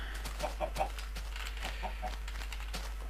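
Chickens cluck in a steady scatter of short, soft calls on a chicken farm in a video game, with a constant low hum running underneath throughout.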